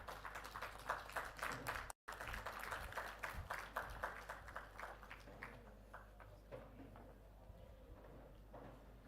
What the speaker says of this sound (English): Please join me in applauding our distinguished keynote speaker